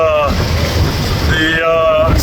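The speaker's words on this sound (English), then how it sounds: "It's still pretty windy." Strong wind roars across the microphone aboard a sailboat at sea in about 22 knots of wind, a steady loud rush with waves underneath and brief tonal whistles, while a person talks over it.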